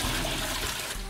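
A toilet flushes in a restaurant restroom stall, a loud, steady rush of water filling the whole short moment without any voices.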